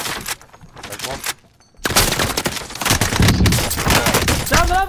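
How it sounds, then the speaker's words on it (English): Rapid bursts of automatic gunfire and explosions in the Call of Duty Modern Warfare video game, loud and dense after a brief lull, with game sounds layered in. "Ben, you can shoot through the wall!"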